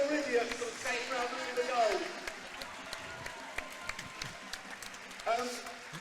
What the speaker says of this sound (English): And the officials getting a round of applause.